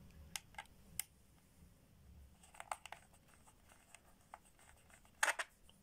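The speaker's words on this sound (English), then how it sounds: "So now I'm going to take the panels off with this screwdriver." Small metal screwdriver clicks and faint scraping on the screws of an ASUS X550CA laptop panel, scattered sharp ticks with a louder cluster of clicks near the end, close and quiet.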